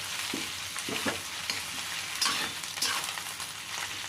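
Sliced okra fries in oil in a pan for Gujarati masala bhindi, still unsalted, with a steady sizzle broken by several scraping stirs of a spoon against the pan.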